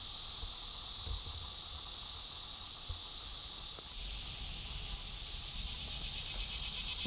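Insects chirring in the Shawnee National Forest at night, a dense, continuous high buzzing chorus with a few faint low thumps beneath and no voices.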